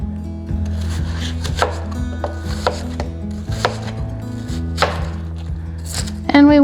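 A knife chops a large onion on a cutting board for a zucchini and pork chop dish, with steady, close, distinct chops repeating throughout over a low background hum.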